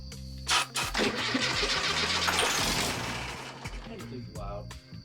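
A 1974 Volkswagen Beetle barn find cranks and fires up through a hot rod exhaust, a loud rough rumble catching close by and settling into idle while people talk nearby.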